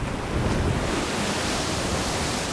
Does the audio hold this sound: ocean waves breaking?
yes